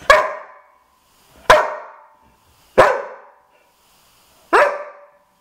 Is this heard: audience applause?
no